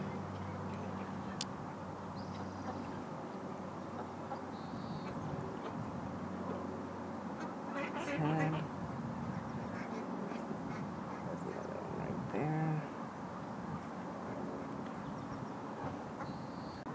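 Ducks at a lake quacking intermittently in short bursts over a steady, noisy outdoor background; moderately close, no talking.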